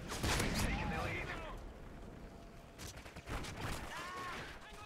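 A frag grenade blast in Call of Duty, with a low booming rumble and scattered gunfire in a noisy battle mix, and voices shouting over it.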